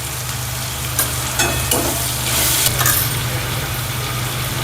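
Spices sauté in a hot pan for Maharashtrian zunka, a continuous close sizzle with occasional stirring scrapes over a steady low hum.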